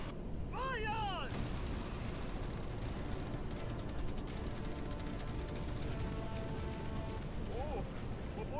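Video game cannon fire aimed at a yacht, with continuous dense booming and crackling explosions layered over a constant roar, and a few whistling tones near the start.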